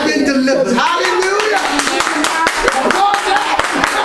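An audience claps during a young adult Bible study class, brisk irregular hand claps running the whole time amid cheering voices and excited talk, fairly loud and close.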